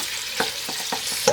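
Chopped bacon fries in butter in a pot while the fat renders out, making a steady sizzle with a few soft scraping stirs and one light clink.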